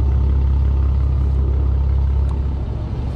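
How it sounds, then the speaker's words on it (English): A Jeep Grand Cherokee with Valvetronic valved mufflers open and a resonator delete idles in a deep, steady low rumble, close and continuous, with no talking. "Here's what it sounds like idling with the valves open."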